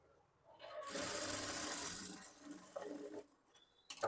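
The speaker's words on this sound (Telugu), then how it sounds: "ఈ లైనింగ్ పీస్ వచ్చేసి పైన వైపు ఇలా పెట్టేసుకొని ఇక్కడ నుంచి ఇలా స్టిచ్ చేసుకోవాలి." A sewing machine stitches a blouse lining onto the main cloth in one steady loud run of about two and a half seconds, followed by a couple of short bursts.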